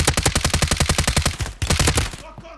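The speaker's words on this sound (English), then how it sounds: "Where am I getting shot from?" Sustained machine-gun fire in Call of Duty: Warzone, a rapid, evenly spaced string of loud, close shots that rattles on for about two seconds before a few trailing rounds fade out.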